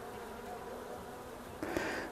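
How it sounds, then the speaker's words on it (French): Honeybees buzz densely over hive frames in a struggling swarm colony, a steady close hum with a few individual bees droning louder as they pass near the end. "On voit que les abeilles bougent quand même très vite."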